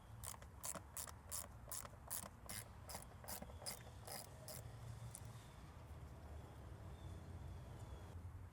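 A ratchet wrench clicks rapidly in a quick, even burst of about a dozen sharp ticks while T20 bolts are loosened from a cover on a Mercedes-Benz ML350 W166, then stops, leaving a quiet background hum.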